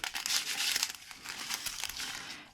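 Scissors cutting through an ARTDOT diamond dot sheet, a close, steady crinkly snipping and rustle of thin plastic lasting a couple of seconds with no talk.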